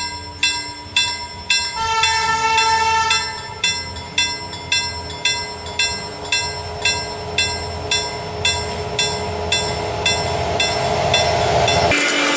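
A train rolls past close by in Skärblacka, Sweden, its wheels clacking in a steady repeating rhythm over a loud rumble, with a squealing tone building toward the end.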